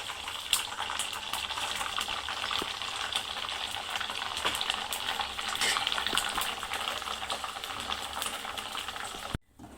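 Sago pearls (sabudana) fry in hot oil with a dense, loud, continuous sizzle and crackle close by, cutting off abruptly at the very end.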